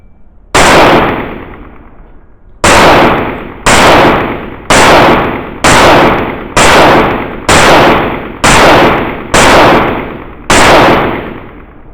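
An STI Staccato C2 pistol fires ten rounds at a target ten yards away, giving ten loud, sharp shots at a steady pace of about one per second with a short ringing decay after each.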